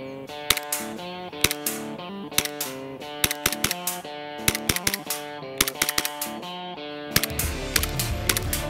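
A VE Glock 18 gas blowback airsoft pistol with a metal slide fires on green gas: a string of sharp, close clacking shots at an irregular pace over steady background music.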